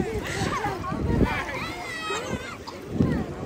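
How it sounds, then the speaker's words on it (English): Water splashing and sloshing around, with several children's voices talking and shouting over it. "She's splashing everybody."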